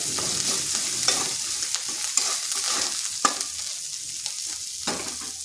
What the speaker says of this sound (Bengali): আঁচটা স্লো আঁচে করে আদাটা একটু ভেজে নিচ্ছি, যাতে তার কাঁচা গন্ধটা চলে যায়।